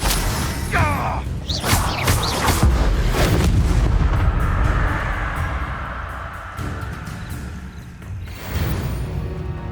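An Incendio fire spell cast in Hogwarts Legacy sounds as a loud, continuous roaring whoosh with heavy booming low rumble, steady for several seconds before easing slightly and swelling again.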